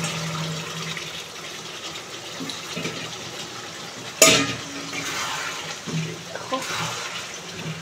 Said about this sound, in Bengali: এর মধ্যে দিয়ে দেবো সেদ্ধ করে রাখা আলুগুলো।